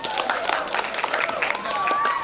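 An audience at a school awards ceremony applauds with dense, continuous clapping and crowd murmur, while a voice talks over it.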